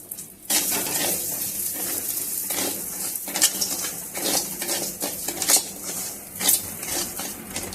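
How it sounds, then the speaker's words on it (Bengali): Rice frying in hot ghee for payesh, a close, steady sizzle with frequent metal spoon scrapes and clinks against the pan in an irregular stirring rhythm, no speech. "ঘিটা গরম হয়ে গেছে চালটা আমি ভেজে নেব"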